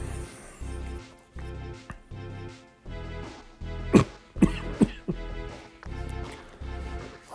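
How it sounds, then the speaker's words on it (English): A few sharp coughs burst out around the middle, over a steady background of Pokémon battle game music and sound effects. "I really hope the coughing is not very loud."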